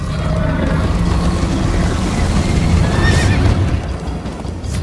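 A horse whinnies in Minecraft: Story Mode amid a dense, steady rumble of hoofbeats and motion, the neigh rising briefly near the middle over continuous loud background noise.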